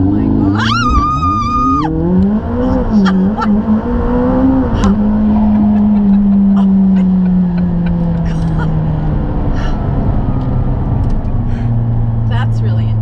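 A McLaren sports car accelerates hard from a launch-control start, engine revving up through sharp gear changes then settling into a loud, steady drone, with talk from inside the cabin over it.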